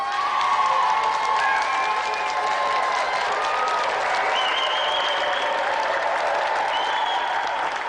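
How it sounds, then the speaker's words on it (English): Sustained applause from a large TV studio audience on a video game show, steady and dense throughout, with a few faint cheers mixed in. "Another round of applause for our special guest, Kathy Dennis."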